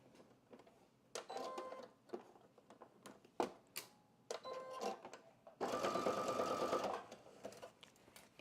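A sewing machine bastes the seam of a spring Juliette top, running in short stitching bursts with pauses and then one longer steady run, close and clear.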